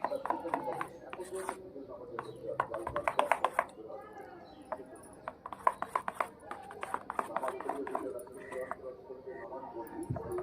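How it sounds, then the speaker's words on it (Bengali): Dhokla batter being beaten with water in a bowl, quick rhythmic slapping and clicking strokes in clustered bursts, moderately close, with someone talking over parts of it. "আমি একটু করে জল দিচ্ছি আর ভালো করে এটাকে ফেটে নিচ্ছি।"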